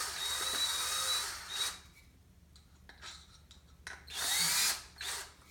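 A power drill drives screws into a wooden French cleat for hanging a produce board, sounding in two loud whirring bursts at the start and near the end, with quieter clicks and handling noise between.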